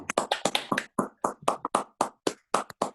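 A small group claps at a club handover awards event, with about twenty crisp, separate hand claps in an irregular but steady rhythm, close and fairly loud, with no talking over them.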